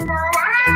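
A cat meows once, loud and close, its drawn-out call laid over a music track's steady tones.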